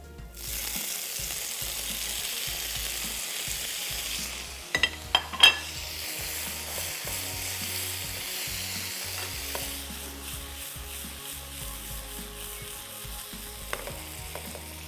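Chicken drops into a hot pan and sizzles steadily, frying with a constant hiss, while a few sharp clinks of a utensil against the pan stand out midway.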